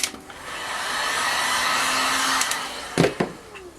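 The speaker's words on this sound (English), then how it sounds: "I'm gonna grab my heat gun." A heat gun blowing on candle wax for dessert candles, a steady close airy roar running for a few seconds before it cuts off, followed by a couple of light knocks.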